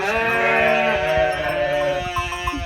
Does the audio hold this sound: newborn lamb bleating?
yes